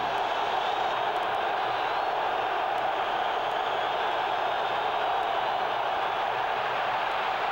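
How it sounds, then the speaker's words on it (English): Stadium crowd at a 1987 AFC divisional playoff football game between Indianapolis and Cleveland, a loud, continuous roar that holds steady as a broad wash of voices, with faint clicks above it. "The crowd starts up"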